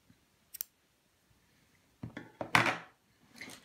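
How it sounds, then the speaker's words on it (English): Scissors snip through crochet yarn after the hook is pulled out, giving a couple of faint clicks early on and then a louder close cutting crunch with a brief rustle, all without talk. "I take my hook out and I'm just going to, snip the yarn."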